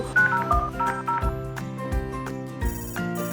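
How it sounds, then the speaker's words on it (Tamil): A run of telephone dialing tones sounds as a number is called, a quick sequence of distinct beeps in steady rhythm ending in a brighter ring-like tone. "கிறிஸ்மஸ் தாத்தா ஃபோன் நம்பர் இருக்கு நம்ம ஃபோன் பண்ணலாமா"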